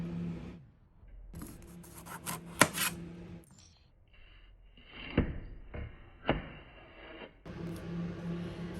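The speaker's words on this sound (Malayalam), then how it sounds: "അപ്പോൾ നമുക്ക് അതിനായിട്ട് നമ്മുടെ പാവയ്ക്ക കട്ട് ചെയ്തെടുക്കാം." A knife cuts bitter gourd for a salad in a home kitchen, with quiet scraping and rasping strokes broken by a few sharp taps on a cutting board, close and faint.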